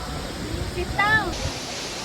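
Waterfall at Aw-asen Falls gives a steady, broad rushing roar that fills the whole clip, with a brief voice-like tone rising over it about halfway through.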